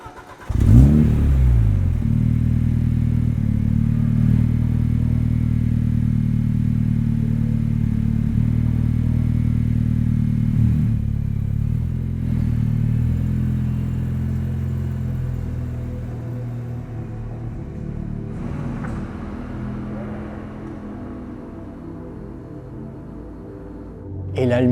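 Alpine A110 Ravage Groupe 4 rumbling loudly through a custom exhaust silencer, a deep steady engine note with revs rising at the start, then settling and gradually fading over about twenty-five seconds.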